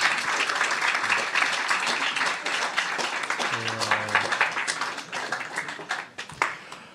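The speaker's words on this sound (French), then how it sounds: "Je crois qu'on peut l'applaudir." Audience applause at the end of a talk on hidden careers in video games, focused on concept artists: steady, dense clapping that slowly thins out, with a short tonal sound partway through.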